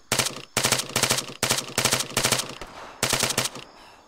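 Automatic weapon fire in ArmA 3 during an Apex co-op mission: about six separate sharp bursts spaced evenly, each a rapid string of loud shots, with the last burst followed by a fading echo.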